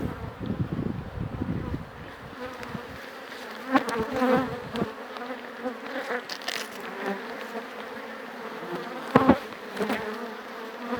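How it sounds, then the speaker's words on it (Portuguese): Bees swarm and buzz close by around a person harvesting honey, a steady droning hum that swells and fades as insects pass near, with occasional bumps and wind rustle. "Olha quantas abelhas que me rodeiam."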